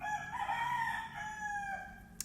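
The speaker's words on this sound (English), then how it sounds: "the rooster crowed right at that moment" Rooster crowing once, a long drawn-out cock-a-doodle-doo that is clear and fairly close, ending with a brief sharp click, and no one talks.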